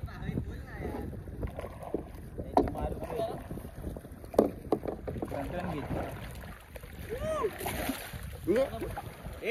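Kayak paddles splashing and dipping through coastal water at a beach in Konkan, with wind buffeting the microphone and people talking and calling out over the paddling.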